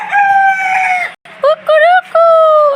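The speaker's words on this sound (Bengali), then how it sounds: "হ্যাঁ, সে কুকুরুকুক বলতেছে। মোরগ আছে কয়েকটা।" Rooster crowing loudly nearby in a long drawn first call, followed by a broken, wavering second crow.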